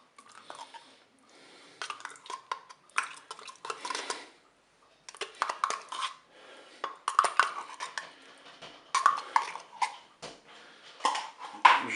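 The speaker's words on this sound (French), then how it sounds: "Je mélange tout ça délicatement" Spoon scraping and clinking against a Cookeo multicooker pot while beef and potato stew cooked in red wine with tomato concentrate is stirred, in irregular bursts of metallic taps and scrapes with short pauses.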